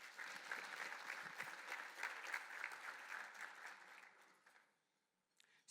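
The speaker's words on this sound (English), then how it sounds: "Round of applause, please." An audience applauds after a leadership talk, a soft, dense patter of many hands that carries on steadily, then quickly dies away near the end.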